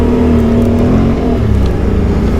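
Quad ATV running on large tires and fitted with ELKA suspension, engine droning loudly and steadily near the listener, with a sustained low hum that shifts slightly as it revs and lands.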